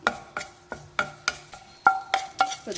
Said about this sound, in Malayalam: ഒരു രണ്ട് മൂന്ന് തണ്ട് കറിവേപ്പില അതൊന്ന് ക്രിസ്പി ആവണ വരെ ഒന്ന് ഇളക്കി കൊടുത്താൽ മതി